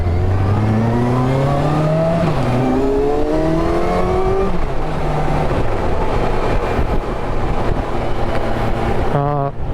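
A Kawasaki Versys 1000 motorcycle on a commute, its engine droning loudly and steadily with rising and falling pitch as it accelerates through gears, plus wind and road noise throughout.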